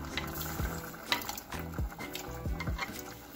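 Dal added to a hot pan for a dosakaya dal dish, crackling and sizzling with several soft knocks of a utensil against the pan.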